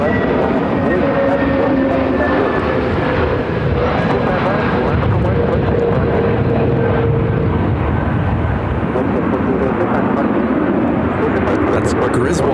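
Frontier Airlines Airbus A320 from Houston at Phoenix airport, a continuous loud jet engine roar filling the whole stretch with a faint whining tone drifting across it, steady and unbroken, as people talk over it.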